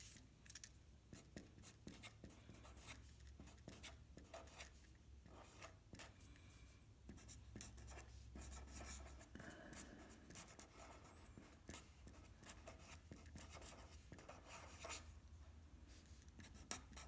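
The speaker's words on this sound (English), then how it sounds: "I'll go ahead and write that down." Pen or marker writing on a board during a physics lecture on angular motion: a steady, faint scratching and rubbing that runs continuously through a quiet room hum.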